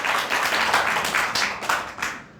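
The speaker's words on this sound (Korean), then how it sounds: "여러분 뜨거운 박수 보내주시기 바랍니다." An audience claps in welcome for an arriving guest at a Korean political forum gathering, a dense, steady patter of hands lasting a couple of seconds and tapering slightly at the end, with no voices over it.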